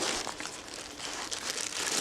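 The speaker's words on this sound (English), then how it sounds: "And there, he's starting to dig." Dry scratching and crunching of soil as a dog digs at close range during truffle-hunting training, a busy, continuous rasp with quick irregular scrapes.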